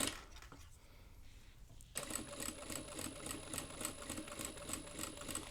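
A sewing machine back stitches on a beginner's phone and tablet stand project: a quieter start, then a fast, steady mechanical rattle of stitching up close.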